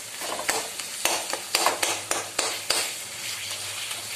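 Cooked tomatoes being mashed in a pan, a steady series of soft knocking thumps and squelches, about one every half second, close up and fairly quiet with no talking.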